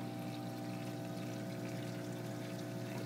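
Water pours steadily into a homemade coil denitrator reactor for a saltwater aquarium, a continuous close trickle and gush with a faint pump-like hum beneath, no voices.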